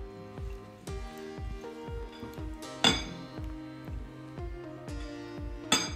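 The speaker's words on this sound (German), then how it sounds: "Mit einem Schneebesen vermische ich Chili, Gewürze und Öl, damit sich alles gleichmäßig verteilt" A whisk beats chili, spices and oil together in a bowl, giving steady metallic clinks and taps at a brisk, even rhythm, close and moderately loud, with a few harder knocks against the rim.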